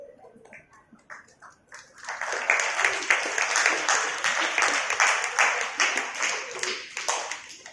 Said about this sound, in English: You can continue the clapping